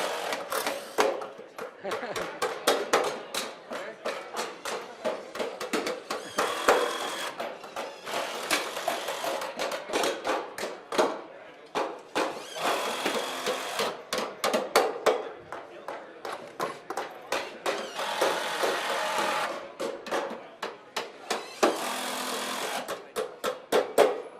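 Nails being hammered into a wooden stair stringer during a builders' challenge, rapid sharp hammer blows in quick bursts with short pauses, close and loud, mixed with people talking throughout.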